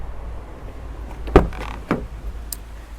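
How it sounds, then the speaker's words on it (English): Passenger door of a Bailey Autograph 79-4F motorhome being opened: a sharp latch click, then a second thud and rustle as the door swings, with a faint tap near the end, all close by and without talk. "open the passenger door"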